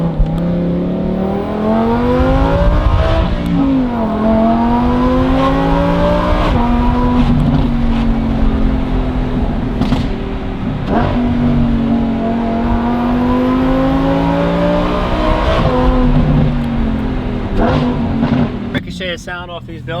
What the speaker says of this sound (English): All you have to do is bolt this catback on and you get this incredible high-pitched, smooth, even firing sound